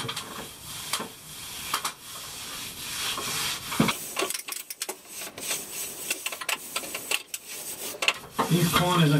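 Wet sponge scrubbing and wiping fresh Mapei Flexcolor CQ grout off tiles in a hot setting, giving repeated rough rubbing and scraping strokes, fairly close, with some brief clinks and no talking.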